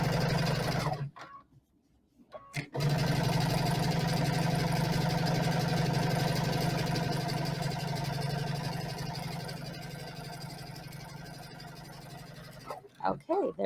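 A sewing machine runs steadily while stitching a fleece infinity scarf. It whirs continuously for about ten seconds after a brief pause near the start, and the hum eases somewhat toward the end.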